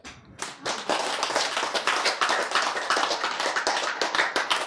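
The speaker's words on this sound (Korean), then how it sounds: "박수." An audience at a lecture on conditional and unconditional love breaks into a round of clapping, dense, fast overlapping hand claps, close and steady, starting abruptly and running the whole time with no talking.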